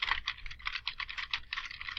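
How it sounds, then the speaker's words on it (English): Computer keyboard typing in a steady run of quick, close keystrokes with brief pauses, clear and alone with no voices. "this is my simulated typing"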